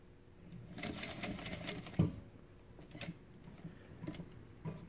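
A Juki DDL-8700H industrial sewing machine stitches through a dog collar, a quiet mechanical whirring with irregular ticks and clacks and one sharper knock, heard alone.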